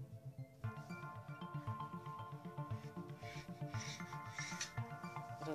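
Rolled yeast puff pastry dough for croissants is cut in half, a close, rhythmic scraping and rasping of repeated strokes that continue steadily, with no voices.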